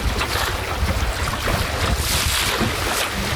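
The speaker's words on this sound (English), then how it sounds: "The wind has picked up a bit this afternoon." Strong wind gusts roar across a lake around a small sailing dinghy in a 7 to 10 knot breeze, with steady rushing wind noise and faint water wash, continuous and loud with no talking.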